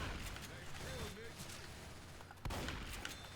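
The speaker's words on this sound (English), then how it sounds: "Everybody's ahead of me at trying to shoot these things." Video game gunfire plays out as bursts of rapid shots crackling continuously through the scene, with game effects and mechanical clicks mixed in and a sharp jump in intensity partway through.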